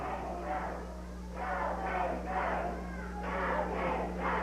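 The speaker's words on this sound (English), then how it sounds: "And the crowd is cheering on David Baxter." A wrestling crowd cheers and hollers for David Baxter as he holds an armbar on Bob Hall, rising in repeated surges of shouting over a steady hum.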